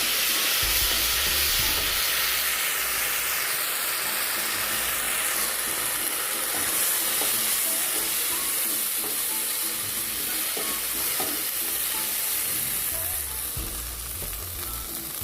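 Bhog rice stirred in a pan after a little water is added, giving a loud continuous sizzle and steamy hiss with faint stirring scrapes underneath, no talking.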